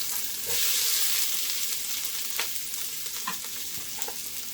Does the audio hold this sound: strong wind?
no